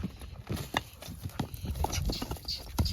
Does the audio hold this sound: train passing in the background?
no